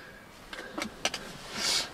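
A car's electric window motor whirs briefly amid a few soft clicks and small interior knocks, quiet and close inside the cabin.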